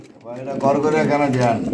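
Pigeons, including Jalali and Canadian powder breeds, coo in a close, rounded call lasting under two seconds, with warbling pulses against a faint background.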